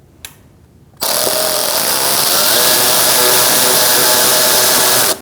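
A power tool drives a larger screw into a front license plate bracket on the bumper of a 2008-2014 Mercedes-Benz C300, a single continuous whirring burst of about four seconds, loud and close, after a brief click.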